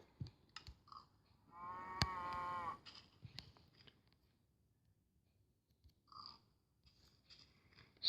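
A cow in the video game Minecraft gives a single loud, clear moo, surrounded by soft game clicks and quiet ambient sounds.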